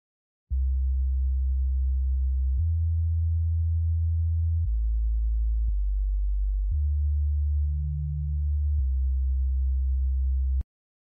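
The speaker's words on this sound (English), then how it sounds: "Here I added a sub bass for the intro." Synthesized sub bass intro programmed in FL Studio: deep sustained sine-like bass notes shifting pitch every second or two, clean and steady with no other sounds.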